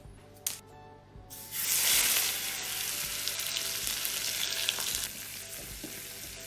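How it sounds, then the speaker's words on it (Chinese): Hot oil poured onto a sauce mixture of salt, sugar, garlic chili sauce and sweet bean sauce, a sudden loud sizzle bursting after a quiet start and crackling steadily for several seconds. "最后咱们向里边泼上烧好的热油"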